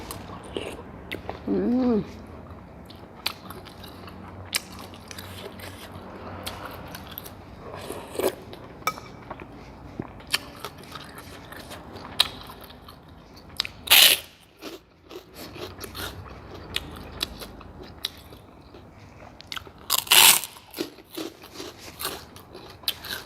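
Crisp crunching of homemade fried pork rinds being bitten and chewed, a meal alongside Thai pork noodle soup with fried garlic; scattered crackly bites through a quiet stretch, with two louder sharp crunches standing out near the middle and end.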